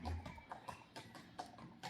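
A golden horse's hooves clip-clop on hard ground in a quick, uneven rhythm of about a dozen faint nearby strikes, heard alone without talk.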